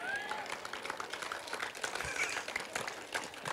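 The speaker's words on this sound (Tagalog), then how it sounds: "Karong mihinay palakpak ng mga anak po ngayong umaga" Soft, scattered clapping from a small church congregation, quiet and somewhat distant, with faint murmuring in the background.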